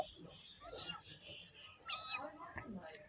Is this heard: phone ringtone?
no